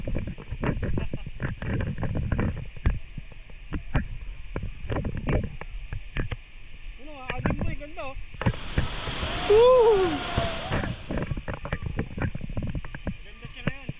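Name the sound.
rushing water of a river or falls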